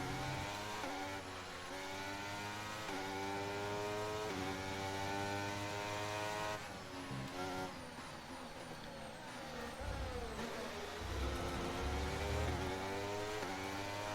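An F1 car engine in the video game F1 23, sounding rough at the Imola circuit, with loud, sustained revving and repeated gear-change pitch sweeps throughout, up close and without speech.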